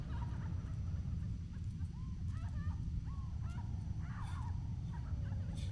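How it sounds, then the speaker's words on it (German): Muffled cries from someone behind a door in the video game Far-Out Selene, a few short wavering wails rising over a low steady rumbling ambience, somewhat distant and faint. "Die ist hinter der Tür, da schreit einer."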